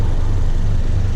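Steady low engine drone from a 10th-gen Honda Civic fitted with a PRL Cobra cold air intake, heard as a constant close rumble with broadband hiss above it and no speech.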